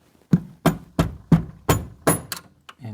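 A screwdriver strikes the ring of a cable clamp holding 6-2 cable in a kitchen range panel to tighten it, six sharp, close metallic thunks in a steady, evenly spaced rhythm, with a fainter seventh knock at the end.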